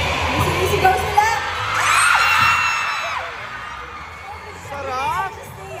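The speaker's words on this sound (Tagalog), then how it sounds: "Sigaw sila!" A crowd at a live stage event shouts and cheers in loud bursts, with whoops and high excited voices swelling mid-clip and rising again near the end.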